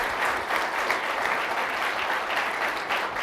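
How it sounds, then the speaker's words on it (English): At a live athletics award show, the 2018 DAC Athlete of the Year Awards, a crowd applauds the event staff with a sustained, even wash of many hands clapping, fairly loud and continuous throughout. "I'd like everyone to give a round of applause for the entire DAC staff for making this night so welcoming."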